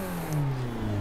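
A 333hp Nissan 180SX drift car at Tamada Sportsland, heard from outside, with its engine revving in a brief, loud, rising growl that lasts about a second.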